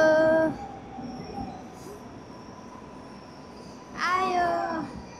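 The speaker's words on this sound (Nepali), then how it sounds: "ल हाम्रो मेट्रो आइसक्यो। मेट्रो आयो" A metro train pulls into a station, with a faint rumble under quiet surroundings and squealing brake tones at the start and again near the end.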